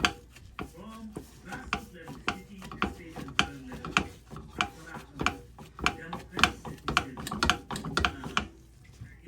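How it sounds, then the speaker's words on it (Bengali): Chhana cheese being kneaded and pressed by hand with the palm, a rapid run of close, soft slapping and rubbing taps in an uneven rhythm, with a voice speaking faintly underneath. "এই যে তালুটা দিয়ে এটাকে এইভাবে সুন্দর করে এই যে মিশিয়ে নিতে হবে, যেন কোনো দানা না থাকে"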